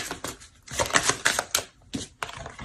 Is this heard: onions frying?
no